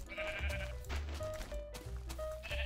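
Blocky Minecraft sheep bleat again and again in quick succession, loud and close, over steady game background tones.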